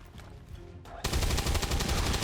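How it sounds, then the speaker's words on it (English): Gunfire from the turn-based strategy game XCOM 2: after a second of quieter game sound, a loud, rapid burst of automatic shots rattles through to the end. "we're going to be shooting here first"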